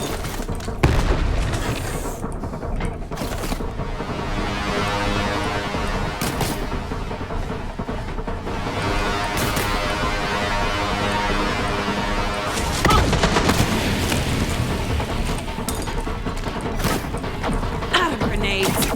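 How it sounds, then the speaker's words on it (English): Grenade explosions in the video game Borderlands 3, several heavy booming blasts across a busy stretch of combat with mechanical clatter and rapid gunfire between them, loud and close. "Grenades."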